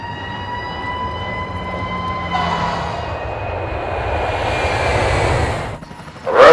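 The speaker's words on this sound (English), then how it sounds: "the sky was broken by the scream of jet engines." Fighter jet engines scream overhead, a sustained whining roar with high tonal whistles that swells over several seconds, dips briefly, then ends in a sharp loud burst.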